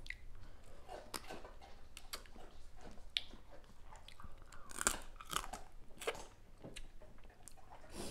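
A child eating crunchy spicy raw blue crab salad (som tam poo ma), close, wet crunching and chewing bites that repeat irregularly at a quiet level throughout.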